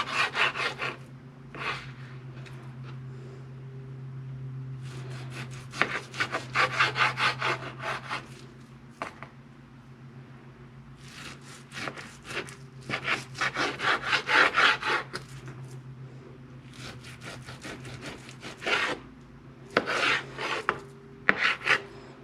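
A knife slices through beef for jerky, cutting with the grain on a board in quick runs of close, rasping strokes separated by short pauses, over a steady low hum in a quiet kitchen.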